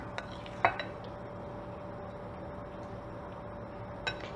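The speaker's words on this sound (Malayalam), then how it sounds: "എന്നിട്ട് ഇത് നമുക്ക് നന്നായിട്ടൊന്ന് ഇളക്കി കൊടുക്കാം കേട്ടോ" A spoon stirs two tablespoons of curd into lukewarm milk in a vessel, with faint swirling, one sharp clink near the start and another light tap near the end over a quiet background.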